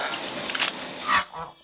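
Ducks being fed grain, bread and water, honking and quacking calls close by over about a second and a half, the last calls louder and separate.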